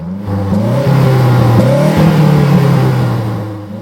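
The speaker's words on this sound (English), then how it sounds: "Which car sounds better? First, the Mazda." A 2010 Mazdaspeed3 engine revs up loud and close, its pitch climbing and settling into a strong steady drone before easing off at the end, with no talk.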